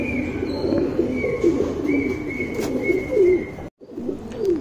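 Racing pigeons coo in a steady, low repeating rhythm close by, with a few faint chirps from other birds and a thin background whistle; no one speaks.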